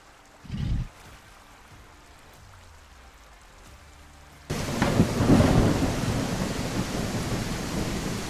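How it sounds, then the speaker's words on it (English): Thunderstorm in the video game The Isle Evrima: a short thunder crack near the start, then a few quiet seconds before heavy rain suddenly bursts in and keeps pouring loudly and steadily. "a thunderstorm rolled in"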